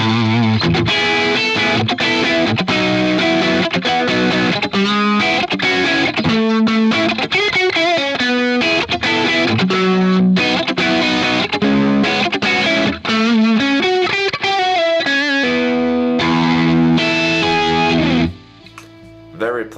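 A single-coil electric guitar played through an ML Mars PR cab with a distorted, creamy tone: a long, loud run of picked chords and notes that ends with a short fade to near silence.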